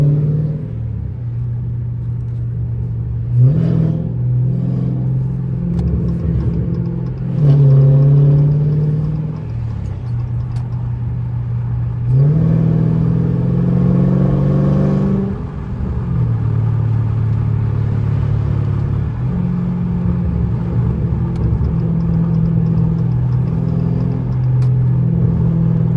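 A catless car exhaust on a night drive, a deep steady rumble from inside the car that swells into several louder revving bursts before settling back to a droning cruise.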